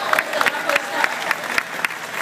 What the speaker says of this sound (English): Let's give Jennifer a nice round of applause